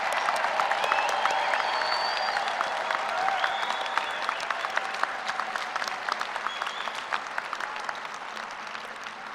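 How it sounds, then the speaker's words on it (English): A large commencement crowd applauds the graduating class of Fall 2016 at Kansas State University, with sustained, dense clapping that slowly thins toward the end, along with faint cheers and whistles. "please join me in one more round of applause for the entire class of Fall"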